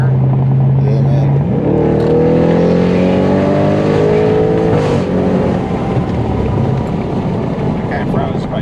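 An Audi RS7 fitted with a loud Fi exhaust accelerates hard from inside the car, its engine note climbing steadily through the gears with a loud, constant roar.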